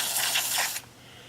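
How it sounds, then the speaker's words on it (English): PB Blaster rust penetrant sprayed from an aerosol can onto rusty parts, a close, loud hissing burst of about 0.8 seconds that cuts off sharply into quiet. "Just spray it on all of this and kind of put more in there than we need"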